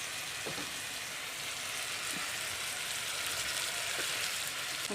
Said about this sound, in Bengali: বন্ধুরা এই যে কিন্তু এইভাবে কষে নিতে হবে মশলাটা